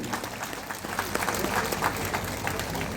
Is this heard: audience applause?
yes